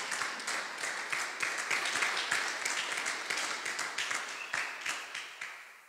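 A church congregation at a thanksgiving service in Metz claps together, a dense, steady patter of many hands that swells slightly in the middle and tapers off near the end, with no voices over it.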